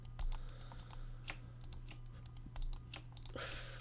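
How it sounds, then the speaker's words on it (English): Fast, irregular keyboard typing and mouse clicking during a Minecraft game, close and fairly quiet, with bursts of clustered clicks and no talking over it. "Oh god, the clicking wars begin."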